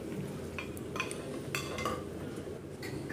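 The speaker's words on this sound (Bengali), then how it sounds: "তো চলুন তাহলে একটা কড়াতে আমি সব কাবলি ছোলাটাকে আস্তে আস্তে ঢেলে নিচ্ছি।" Boiled kabuli chickpeas poured slowly into a kadai, a loose stream of light clattering and clinking against the metal pan, soft and close with small irregular knocks.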